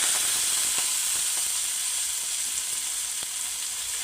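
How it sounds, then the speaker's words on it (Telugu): Chopped fresh fenugreek leaves fry in a little oil in a pan on the stove, giving a steady, close sizzle with a bright hiss and occasional faint stirring clicks, with no voices. "మనం కొంచెం ఇలా నూనెలో వేయించుకొని వేసుకోవాలి"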